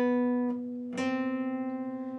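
A clean electric guitar plays the slow intro part of a song, two plucked notes that ring out sustained and close, the second with a gentle wavering shimmer, no voice.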